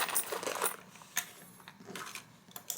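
Loose change clinks and jingles as coins are handled and dropped into a pocket of a tech organizer case, several close metallic chinks in irregular bursts, fairly quiet with no speech.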